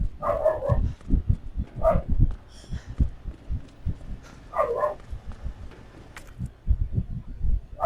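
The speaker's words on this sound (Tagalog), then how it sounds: "Asong zombie rin." A zombie dog in the Resident Evil 2 video game lets out several short barks and snarls in separate bursts, mixed with low thudding knocks between them.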